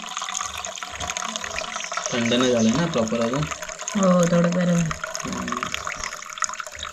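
Cooking water is poured off boiled four-angled beans in a Konkan village kitchen with a wood-fired stove, giving two bursts of splashing, gurgling liquid between people talking nearby.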